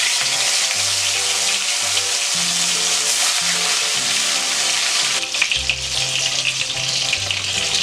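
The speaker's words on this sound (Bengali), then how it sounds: "কড়াইয়ে তেলটা গরম হয়েছে, এতে আমি আস্তে আস্তে করে 2 মাছ ভেজে নিচ্ছি।" Koi fish frying in hot oil in a kadai, a loud continuous crackling sizzle with a low hum of background music underneath, steady from start to finish.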